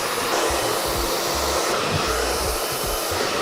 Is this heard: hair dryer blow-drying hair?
yes